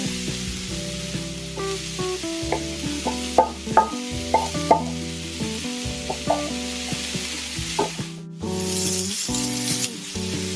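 Eggplant sizzles and fries steadily in a hot pan for Sicilian caponata, with occasional stirring clatters, all under background music; the sizzle swells louder near the end.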